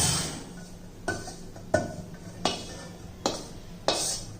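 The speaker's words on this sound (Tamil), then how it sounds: "இப்போ இதை வந்து ஒரு பவுலில் கொட்டிக்கிடுவோம்." Roasted ragi flour is tipped from a pan into a bowl, with a handful of sharp clinks and scrapes spaced about a second apart over a quiet kitchen background.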